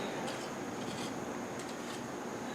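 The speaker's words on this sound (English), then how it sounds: "You can hear the crispiness of the top of this Dutch baby." Soft scraping and rubbing of a utensil across the crisp top of a baked Dutch baby pancake, with a few light crackly strokes, close and quiet.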